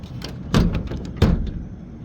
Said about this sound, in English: I just find it makes a big difference if I crack these doors just a little bit